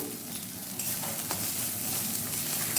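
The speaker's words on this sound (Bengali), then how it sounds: "এগুলো ভালোভাবে মিশিয়ে নিতে হবে।" Mutton curry masala with Kashmiri red chili powder being stirred in a hot pan: a steady sizzle of frying with scraping stir strokes scattered through it, close up and with no voices.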